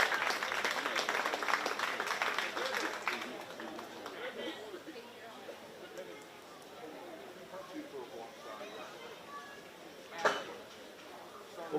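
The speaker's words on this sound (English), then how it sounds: "Give them all a great big round of applause as they head back." Spectators clap for young exhibitors leaving the ring at a 4-H county fair swine show, applause loudest at first then thinning into scattered claps, crowd chatter and a tannoy voice under it.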